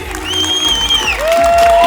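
An audience applauds and cheers at an award ceremony, a thick wash of clapping and crowd noise mixed with loud music carrying sustained synth-like tones, close and energetic.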